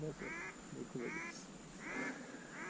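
Ducks quack in four short, raspy bursts spaced about half a second apart, quiet and somewhat distant, with no other sounds, heard while out hunting.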